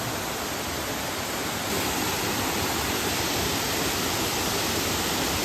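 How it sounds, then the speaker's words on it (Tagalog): Paadjao Falls in Marinduque, a steady broadband rush of falling water, continuous and fairly loud with no break, growing slightly fuller partway through. "Ayan, nakikita niyo ang falls. Ganda ng falls eh."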